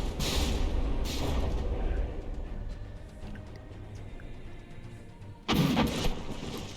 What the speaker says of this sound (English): Those initial shots going off.